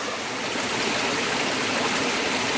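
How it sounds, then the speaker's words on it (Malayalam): Stream water rushing and splashing between large rocks, a steady broadband wash with no break, close and fairly loud, heard alone without any voices. "ഈ പാറേൻ്റെ ഇടയിലൂടെയാണ് ഈ വെള്ളം വരുന്നത്."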